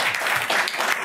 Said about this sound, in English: I am going to ask that we hold our applause.